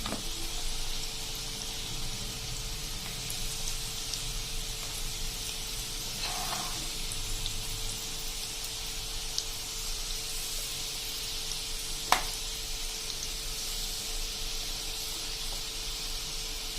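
Peanut bhujia (spiced gram-flour-coated peanuts) frying in a batch of hot oil, a steady broadband sizzle and hiss running throughout with a brief clatter near the middle and a sharp tap toward the end.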